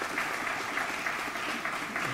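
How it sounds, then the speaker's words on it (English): Steady applause from an audience at a certificate graduation ceremony, a dense even wash of clapping held at a moderate, somewhat distant level throughout. "So let's have a nice round of applause for all of the graduates, please."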